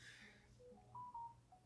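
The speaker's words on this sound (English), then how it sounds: "There goes my phone." A mobile phone sounds a few faint electronic tone beeps in a quiet room, short and thin, rising and falling across a brief burst.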